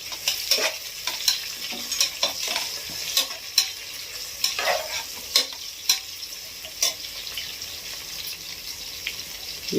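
Tomatoes tossed into onions frying in a pan for egg biryani: a steady hiss of sizzling with repeated sharp clicks and scrapes of stirring scattered throughout, fairly close and without talk.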